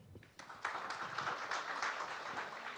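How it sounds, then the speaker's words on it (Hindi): Applause from an audience at a televised Haryana news event, starting thin with a few claps and swelling into a sustained, even wash of clapping, at moderate distance. "एक बार जोरदार तालियां।"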